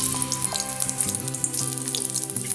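Dried chillies and spices crackle and sizzle in hot oil in a wok, a continuous bright spitting over steady music.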